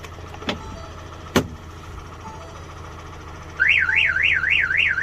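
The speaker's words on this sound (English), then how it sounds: "alarm goes off, shuts it down." Ford Transit Custom van with manual gearbox and remote start: a couple of sharp clunks from the door opening, then the alarm siren starts wailing in a fast rising-and-falling loop over a low engine idle.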